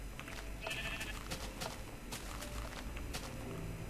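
Several sheep bleat in Minecraft with the Technic modpack, short nasal calls overlapping over a steady low background hum, fairly faint and with no talk.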